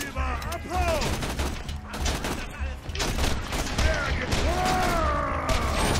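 Rapid gunfire from a weapon in the video game Borderlands 2, bursts of shots and mechanical clatter with whooshing effects, while a player talks over it.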